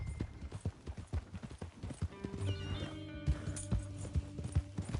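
Horse hooves clip-clop in a steady trotting rhythm through Red Dead Redemption 2's countryside, close and prominent, with occasional whinny-like tones and faint background music or ambience.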